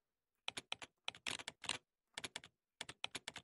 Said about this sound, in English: The clicking sound is so nice. I just want to keep clicking.